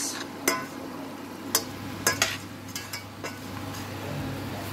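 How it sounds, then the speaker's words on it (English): Lamb curry ingredients are stirred in a pot, several sharp spoon clinks and scrapes over a low steady background hum, close by. "I'm going to add it to the base of the pot and just stir it in like that"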